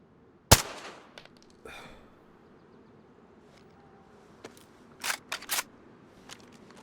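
Suppressed weapon fire in DayZ: one sharp close crack at first, then a softer shot and a quick cluster of three muffled pops later, with quiet ambience between.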